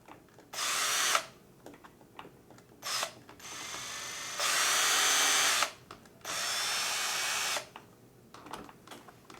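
A power drill or electric screwdriver drives screws into an RC car roll cage for a VG Racing Slash, with several bursts of motor whine separated by quiet gaps, close and fairly loud with no talking.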